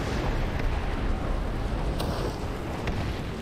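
A fire spell in Skyrim VR hits an enemy, a broad roaring whoosh of flames that stays loud and steady across the moment, with a couple of faint sharp ticks.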